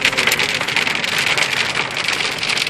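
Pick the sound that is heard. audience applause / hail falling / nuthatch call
hail falling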